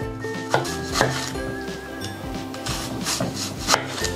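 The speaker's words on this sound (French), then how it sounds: "je vais couper sur des petits tronçons de 2 mm environ mon oignon" A knife slicing an onion into thin rings on a board, with a series of crisp cuts and firm taps at an uneven pace, close and clear over a low background hum.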